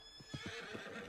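A horse whinnies briefly in Red Dead Redemption 2 Online over a steady electronic hum, with a few hoof clops mixed in, fairly faint.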